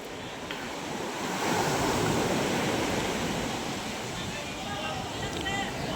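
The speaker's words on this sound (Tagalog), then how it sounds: "Ayan, lalaki ng alon eh." Loud, steady roar of ocean surf at a fish terminal in Tanza, Cavite, with big waves breaking continuously, a broad rushing wash that swells slightly and holds strong throughout.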